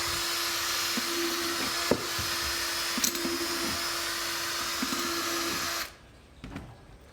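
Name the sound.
drilling 4 mm aeration holes in plastic worm bin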